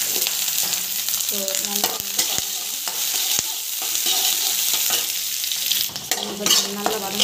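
Onion sautés in hot oil with a steady close sizzle, stirred with intermittent scraping and clinks, while a voice briefly speaks over it.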